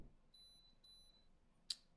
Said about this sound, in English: And you heard the beep.